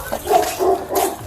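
A police K-9 dog gives a couple of quick, close barks in a tense outdoor pursuit scene, short and sharp over background noise.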